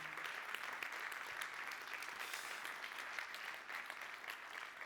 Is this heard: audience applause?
yes